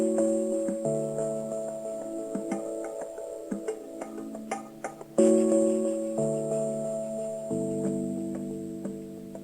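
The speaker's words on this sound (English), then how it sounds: "I made it so this button here will dial and call a test phone number, which just plays like hold music" Telephone hold music plays from a test number called on a breadboard landline telephone, a steady low-fidelity melody of sustained tones with faint ticking clicks, with no voices.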